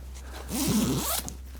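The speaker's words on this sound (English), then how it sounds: "Functioning zipper is always a good sign." A zipper on a clothing brand's sample garment is pulled in one quick, close stroke of about half a second, with a small click just after it.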